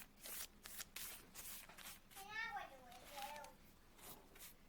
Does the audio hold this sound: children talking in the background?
yes